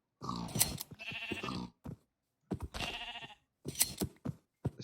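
Sheep bleating in the video game Minecraft: three separate wavering bleats with short silent gaps between them, fairly close and clear, with no talking.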